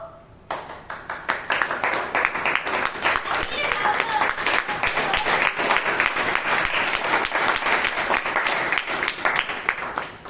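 Audience in a meeting hall at a Toastmasters meeting breaks into sustained applause after a brief quiet start, dense loud clapping lasting about ten seconds with some voices mixed in.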